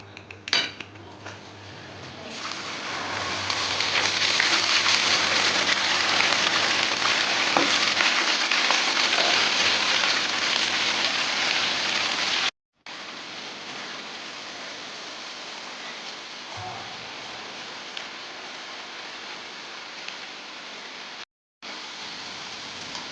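Crispy corn kernels frying in hot oil, a loud continuous sizzling hiss with occasional metal utensil clinks, broken by two brief silent cuts.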